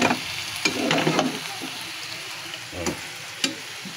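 Eggplant sizzling as it fries in a pan, a steady close crackle broken by a few sharp pops and stirring scrapes, with no talking.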